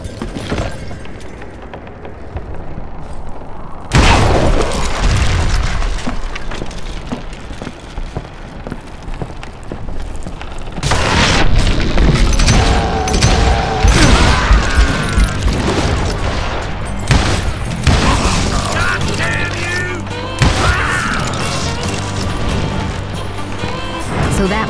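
Dynamite blast in the Western shooter Call of Juarez: Gunslinger, heard as a sudden heavy boom followed by sustained rumbling, crashing debris and scattered gunfire-like cracks, loud and dense throughout after a quieter opening.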